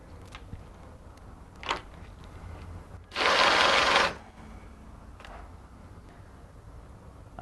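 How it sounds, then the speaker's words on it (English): A screw being driven into a bracket on a Red Sea MAX S-Line aquarium cabinet plinth gives one loud whirring burst of about a second. Faint ticks and light handling knocks sit before and after it, close and without speech. "we'll hold it in position and we'll screw in the 3 screws"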